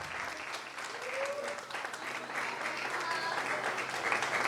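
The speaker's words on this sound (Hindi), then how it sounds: "बच्चों के लिए, जोरदार तालियां।" Applause from a gathering honoring children at a Resurrection Day prize distribution, steady clapping that continues for several seconds with faint voices and a brief whistle-like tone mixed in.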